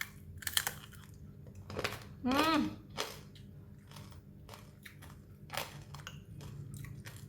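Crispy fried pork belly being bitten and chewed close to the microphone: a few sharp crackling crunches, then softer, irregular chewing in a quiet room.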